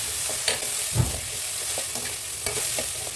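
Soft sizzling and frying of tomatoes in a pan for mutton curry, with occasional stirring scrapes, close and steady.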